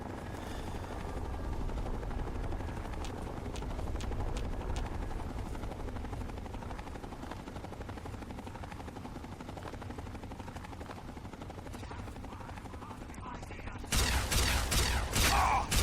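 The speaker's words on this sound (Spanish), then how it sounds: "Ahora ya escucho helicópteros." Helicopters in the Fallout 3 video game give a steady, loud rotor drone that runs the whole way through and swells louder over the last couple of seconds.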